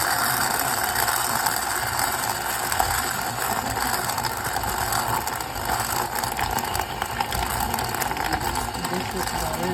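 A KitchenAid grain mill grinds whole wheat berries into flour with a steady, dense mechanical whir and rapid ratcheting clatter that runs unbroken and fairly loud throughout.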